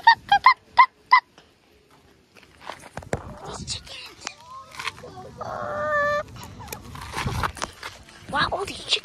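Chickens at a farm cluck and squawk in a quick burst of four sharp calls, then more scattered clucks and bird calls continue close by under wind noise and footsteps, with a person talking.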